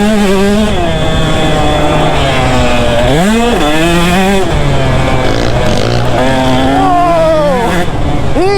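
A KTM 150 SX two-stroke dirt bike engine revs up and down close by, its buzzy, rising and falling pitch surging repeatedly in a loud, continuous run.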